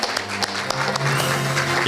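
An audience applauds at a Korea University agreement signing ceremony for the 2019 Seoul Campus Town. The clapping is moderate and continuous, with a steady low tone running beneath it.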